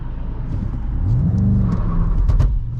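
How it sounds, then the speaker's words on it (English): A 2020 Volkswagen Jetta GLI, a front-wheel-drive sedan, accelerates hard on the autobahn, its engine note rising steadily in a loud, close, continuous drone with a brief gear-change dip and road rumble underneath. "We're just gonna go ahead and accelerate and see what we can do."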